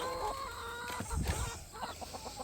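Chickens and roosters cluck in a farmyard pen, a cluster of short, close clucks and squawky calls, with a quick run of rhythmic clucking toward the end.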